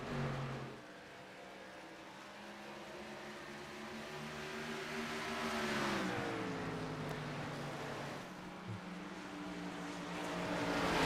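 Race cars in a racing video game at Iowa speed past with a steady engine drone, their pitch rising and sweeping upward as they accelerate, continuous and moderately loud throughout.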